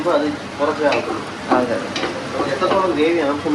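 Onions sautéing in a home pan, a steady close sizzle with stirring scrapes, while people chat and laugh over it.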